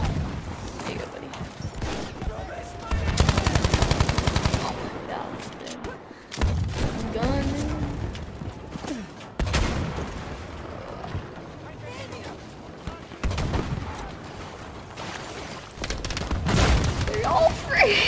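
Video game gunfire crackles in bursts, with a dense volley near the start and more shots and booms scattered throughout, while players talk over the action.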